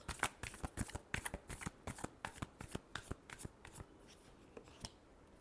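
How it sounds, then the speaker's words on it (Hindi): Tarot cards being shuffled by hand, heard as a quick run of crisp riffling flicks and taps, close but quiet, with no talk. "Last shuffle."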